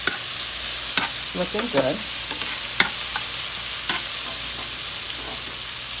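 A Haitian stewed tilapia base of sauce and seasonings sizzles in a pot under steady frying hiss, with a few sharp utensil clinks and stirring scrapes, close by; a voice briefly speaks.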